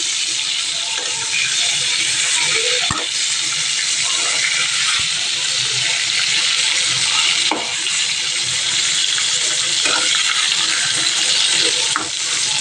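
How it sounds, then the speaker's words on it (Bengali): Eggplant slices fry in a pan in a home kitchen, giving a steady broadband sizzle throughout with a few brief clicks and clatters of utensils. "এদিকে বেগুন ভাজা হচ্ছে"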